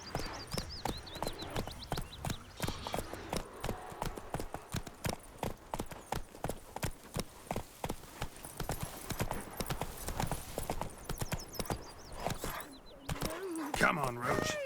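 Hooves of Roach, Geralt's horse in The Witcher 3, trot in a clear, regular clip-clop rhythm, close and distinct, with a brief whinny-like sound and other game ambience near the end.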